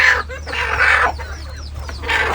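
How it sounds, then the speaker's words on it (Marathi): Free-range desi country chickens on a small village poultry farm cluck in repeated bursts, several birds close by, with no talk over them. "संपूर्ण कोंबड्या ह्या परिसरामध्ये फिरून खातात सध्या त्यांच्याकडे टोटल पंचेचाळीस कोंबड्या आहेत"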